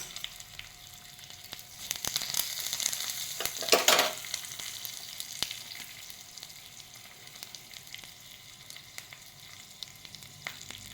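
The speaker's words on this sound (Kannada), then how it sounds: "ಈಗ ಒಂದು ಒಗ್ಗರಣೆ ಕೊಡುವ." Tempering of mustard seeds, urad dal, dried chillies, curry leaves and a pinch of asafoetida sizzles in coconut oil, a close steady fry that swells into a louder crackling burst midway, then settles back to a softer hiss.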